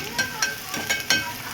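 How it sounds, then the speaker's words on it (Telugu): Onions hit hot oil and sizzle close up, with several sharp scraping clicks as a utensil stirs them, all over a steady crackling hiss. "ఇప్పుడు ఆనియన్స్ అనేది వేయాలి ఫ్రెండ్స్"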